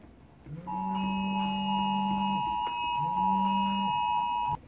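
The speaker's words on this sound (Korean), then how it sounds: "지진 경보 때문에 잠시 수업 멈췄습니다" An earthquake warning alarm goes off during a class, sounding as a loud, steady electronic tone in two long sustained blasts with a brief dip between them, with no one talking over it.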